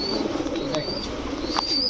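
Palla line racing pigeons coo softly in a loft at close range, a continuous low burbling with a few sharp chirps and light rustles mixed in and no speech.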